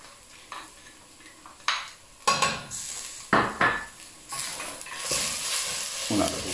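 A spoon stirs pork backbone, carrot and red and green peppers in a pot for lentils with chorizo, giving several sharp scraping clanks against the pot over a soft sizzle on low heat.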